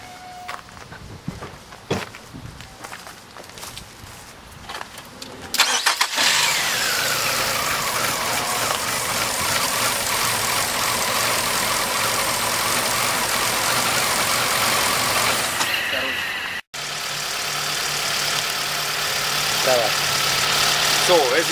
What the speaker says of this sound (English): So right now let's start the vehicle.